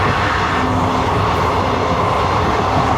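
A train running on the Parassala–Nagercoil line near Palliyadi station gives off a steady, loud rumble of rolling wagons and track noise. The sound holds at a constant level with no voices.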